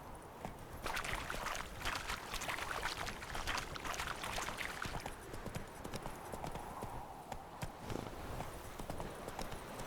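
Horse hooves clip-clop steadily on the ground in The Witcher 3 game, moderately close, with a soft continuous rustle of game ambience underneath and no talk.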